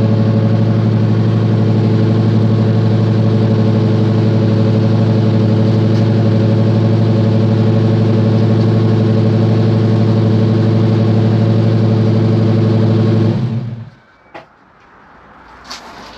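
A Lancia Lybra engine, a petrol unit with more than four cylinders, idles steadily and close with a deep, even hum for about thirteen seconds before cutting off abruptly, leaving faint clicks and near silence.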